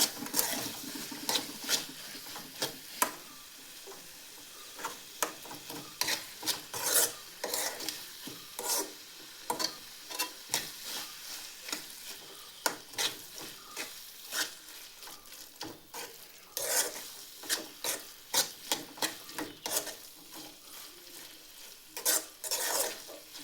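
Roasted brinjal gojju being stirred and mixed in a pot, giving repeated close scraping and rubbing strokes with faint sizzling, steady through the whole stretch with no talking.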